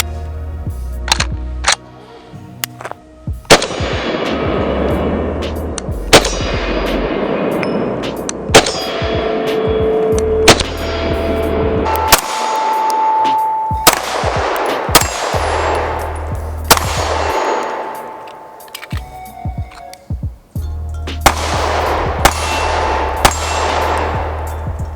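An STI Staccato C pistol fires a string of sharp, loud gunshots at irregular intervals, each crack followed by a ringing metallic tail, with a few clanking handling sounds in the quieter gaps.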